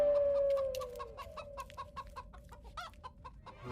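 A hen gives a rapid series of short, sharp clucks in an irregular rhythm, close and fairly loud, following a brief sustained tone at the start, with no speech.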